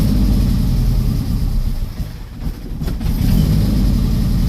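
A car engine at idle runs close and loud as a deep, steady rumble that dips briefly in the middle, with a large-engine, big-block-like character.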